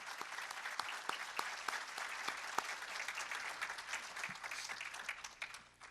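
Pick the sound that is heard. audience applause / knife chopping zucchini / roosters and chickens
audience applause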